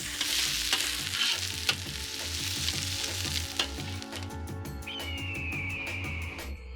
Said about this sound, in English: stir these ingredients together